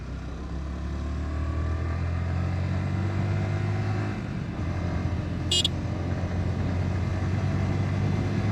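Yamaha MT-15 V2 motorcycle engine humming steadily while riding, a low drone that dips briefly around a gear shift and then resumes, with a short high click near the end.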